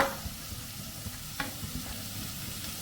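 Chopped tomato and coriander leaves fry with ginger garlic paste, a soft, fairly faint sizzle under light clicks and scrapes of stirring.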